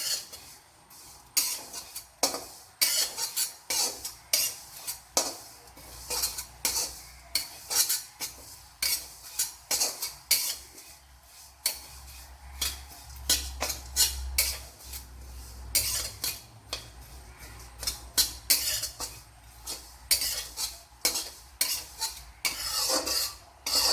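Oats are stirred in a cooking pan for oats upma, a utensil scraping and clinking against the metal in repeated brisk strokes, close and fairly quiet, with no talking.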